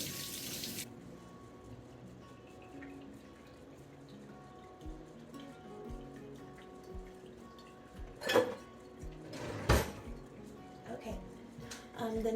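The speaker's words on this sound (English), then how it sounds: "go ahead and wash your hands again" Water runs from a kitchen tap as hands are washed during baking, a quiet trickle with splashes and brief louder bursts.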